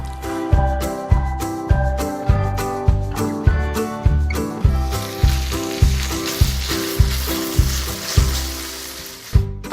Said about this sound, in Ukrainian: Обсмажуватимемо шматки курятини на вершковому маслі.